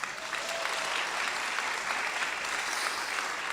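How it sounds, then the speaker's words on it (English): Steady, dense applause from an audience at a celebration of life ceremony, loud and continuous throughout with no break. "Clap it up for my teammate, yo."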